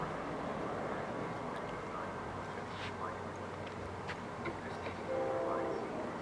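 Amtrak 769 passenger train arriving at Moorpark station, a steady rumble of rail and wheel noise with faint tonal squeals near the end, heard from a moderate distance.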